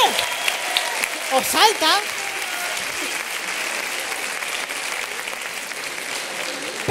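A studio audience on a Spanish talk show breaks into loud, sustained applause for a teenage guest, clapping steadily throughout while a host's voice cuts in briefly near the start.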